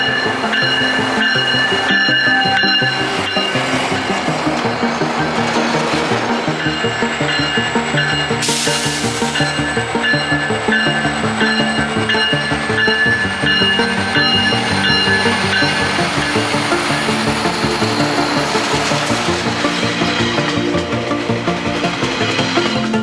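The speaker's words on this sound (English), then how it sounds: "The action at the intermodal facility would cure my boredom until this MP36 locomotive would" An MP36 locomotive pulls a train into a station near an intermodal facility, a steady loud rumble of engine and rolling cars with sustained high wheel squeals and brief bursts of air release, no voices.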